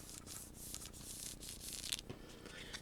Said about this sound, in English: Give it a good rub in those sections,